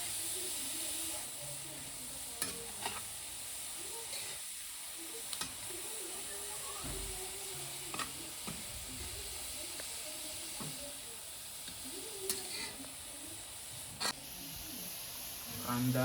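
Greens from a wild-vegetable dish being turned over on a wood-fired chulha make a steady hiss and sizzle, with scattered scrapes and taps from stirring throughout.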